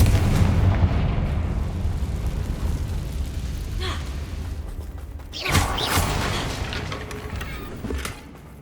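A Confringo blasting spell explodes during combat in the video game Hogwarts Legacy, with a deep sustained rumble, then a sharp burst and crackling debris around the middle, loud and close before fading.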